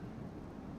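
Rain and thunder on a Third Age Total War battlefield in the Rohan campaign, a faint, steady low rumble with soft hiss of rainfall, no voices.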